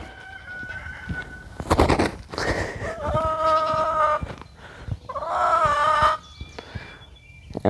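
A broody hen, moved far from her nesting box, gives a few loud harmonic clucks and squawks in uneven bursts, with quiet gaps between calls.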